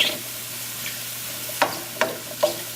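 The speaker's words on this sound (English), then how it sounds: "in between that sizzle you can hear" Faint steady sizzle of mushrooms in a hot dry pan with no oil, broken by three sharp squeaky pops spaced evenly near the end, with no voices.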